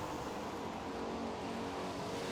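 A muscle car makes a drag racing pass at the NMCA Muscle Car Nationals, its engine a steady, dense roar that holds at an even level throughout, fairly distant and broadband.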